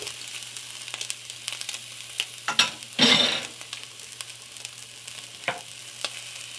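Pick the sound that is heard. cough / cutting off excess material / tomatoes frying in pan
tomatoes frying in pan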